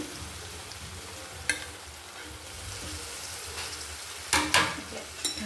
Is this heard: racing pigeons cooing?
no